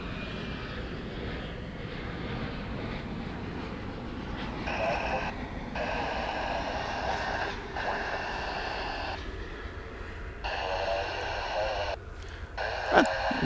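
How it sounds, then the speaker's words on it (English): An Embraer 175 LR regional airliner comes in to land at Dallas/Fort Worth International Airport in fog, its steady engine roar heard at a distance beneath intermittent background voices. "as you could hear, it was an Embraer 175 LR"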